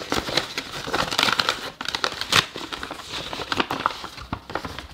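A paper bag, folded from an A4 sheet for a craft Advent box, being opened back up by hand: close, irregular crinkling and rustling of paper for several seconds, no voices.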